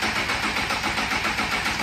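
A Honda CBR motorcycle engine cranks on the starter without catching, a steady, loud, continuous churning with a fast repeating pulse throughout and no voices.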